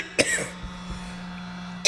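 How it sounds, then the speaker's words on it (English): A single close cough bursts out sharply, followed by quiet room hum and a second short cough at the end. "You hear me coughing?"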